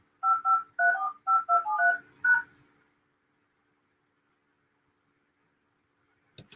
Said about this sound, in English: Please re-enter your meeting ID followed by pound.